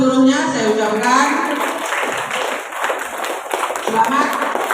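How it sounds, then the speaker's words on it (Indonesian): A school leadership-training audience claps for everyone, scattered hand claps under a voice and some children's chatter. "Baik, tepuk tangan untuk seluruhnya."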